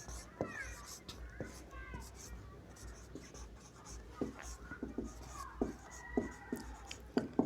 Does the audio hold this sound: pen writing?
yes